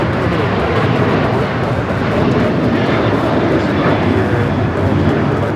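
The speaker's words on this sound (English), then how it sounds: "This is Delta Airlines 2096 taking off to New Orleans on the 737-800." A Delta Airlines Boeing 737-800 taking off from LAX roars as a loud, steady broadband jet rumble that holds throughout, with no clear voices over it.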